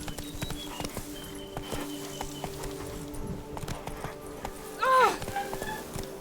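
A horse's hooves clip-clop at a steady walking pace while riding in The Witcher 3 video game, rhythmic and moderately close, with a brief louder sound near the end.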